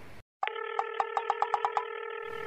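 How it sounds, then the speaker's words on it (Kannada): A telephone ringback tone during a call, a brief click followed by a steady electronic tone with rapid pulsing repeats, close and clear with no talk. "ಅದು ರಿಂಗ್ ಆಗ್ತಿದೆ"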